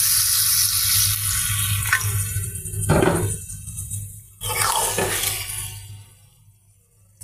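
Shrimp and taro stolon curry sizzles loudly in a large wok, with a splash and hiss as a little water is added, then the frying settles to a softer crackle.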